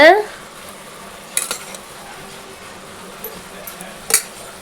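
Curd being stirred into mushroom biriyani masala in a pan, a low background sizzle broken by a few sharp clinks and scrapes of a spoon against the pan.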